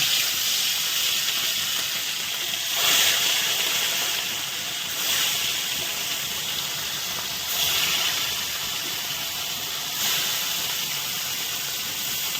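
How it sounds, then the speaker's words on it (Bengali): Pieces of rohu fish fry in hot mustard oil in a wok, giving a loud, steady sizzling hiss that swells briefly every couple of seconds, with no voices. "এখন মাছগুলো ভেজে নেবো"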